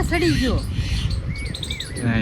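A common myna in a Botad village calls at a mongoose, loud, harsh chattering notes and squeaky rising whistles close by, repeated in short bursts over a windy outdoor background.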